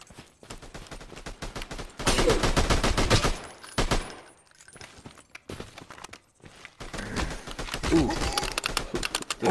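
AK rifle bursts in a video game, dense rapid automatic fire in two long loud stretches with quieter gaps, mixed with keyboard clatter and footstep-like clicks.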